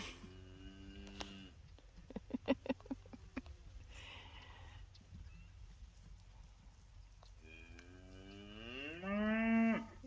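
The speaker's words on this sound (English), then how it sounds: "The noisiest moo we got." Loki, a noisy cow on a farm, lets out drawn-out, rising moos at the start and a louder, closer one at the end, with hoof clops and faint rustling between.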